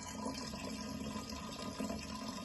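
White rum pouring steadily into a jar for fruit infusion, a continuous even gurgling stream of liquid, close and moderately quiet with no talking.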